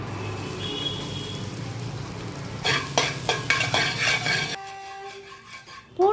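Chopped garlic sautéing in butter in a pan for chicken noodles, a steady sizzle that turns into bursts of rhythmic stirring clatter, then fades to a quieter hiss with a faint tone.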